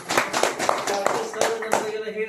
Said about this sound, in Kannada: ಗುರೂಜಿ ಅವರಿಗೆ ತಾವೆಲ್ಲರೂ ಜೋರ ಚಪ್ಪಾಳೆ